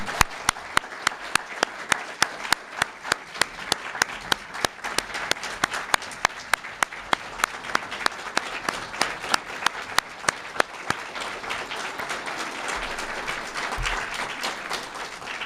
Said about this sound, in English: I'd like to give him a round of applause now